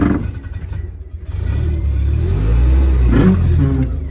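A Ferret armoured car's engine revs as the vehicle moves across a yard, a deep loud rumble that swells and climbs steadily, heard up close.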